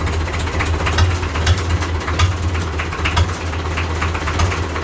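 An old diesel tractor engine idles steadily just after a cold start, a close, even, knocking chug with a low throbbing pulse and metallic clatter running throughout, with no voices.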